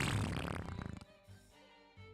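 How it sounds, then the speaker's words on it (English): A cartoonish fart sound effect plays as a World of Warcraft WeakAuras alert, a loud sputtering blast that trails into a flutter and then quieter game sounds. "Yeah, just use the fart sound."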